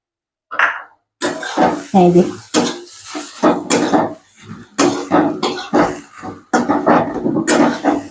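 A utensil repeatedly clanks and scrapes against a pan while stirring egg and eggplant khagina as it fries, making close, irregular clatter in quick bursts with brief pauses between strokes.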